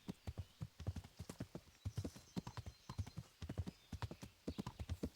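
A horse trotting in Kingdom Come: Deliverance, steady close clip-clop hoofbeats in a brisk regular rhythm, loud and clear with little else around them.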